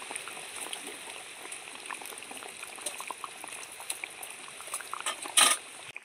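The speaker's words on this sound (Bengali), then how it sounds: "গ্রেভিটা ফুটে উঠতে শুরু করে দিয়েছে" Soybean gravy boiling in a pot for a vegetarian curry, a steady close bubbling and popping simmer with small irregular bursts and one louder splash near the end.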